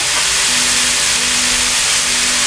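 A hamburg patty sizzles in a pan on low heat, giving a loud, continuous, even hiss that stays close and unbroken throughout.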